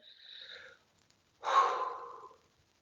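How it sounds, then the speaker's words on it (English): A single deep breath in, close and quiet: a soft airy intake after a faint exhale, with a short silence in between, no talk. "I'm just going to take a deep breath in"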